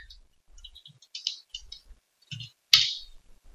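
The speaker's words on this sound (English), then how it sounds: "I'm typing my name again" Keys clack on a computer keyboard as a name is typed, a few soft scattered taps followed by one louder sharp click, close and alone with no talk.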